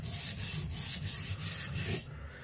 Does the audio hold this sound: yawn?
no